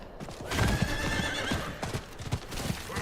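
A horse mount in the Diablo 4 video game gallops with quick, steady hoofbeats under a loud, drawn-out neigh, clear and close, with no talking.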